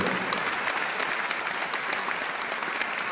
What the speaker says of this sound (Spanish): Den ese aplauso si quiere al Señor en esta noche